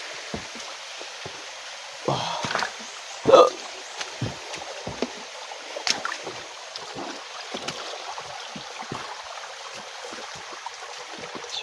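A small waterfall flows as a steady broadband rush of water, continuous and fairly close, with brief splashes and bumps on top and some faint voices.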